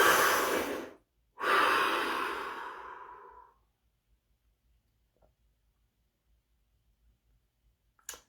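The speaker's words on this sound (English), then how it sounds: "Deep breath." A person takes two long, deep breaths close by, a strong inhale followed by a longer exhale that fades out, then near silence with a faint click at the end.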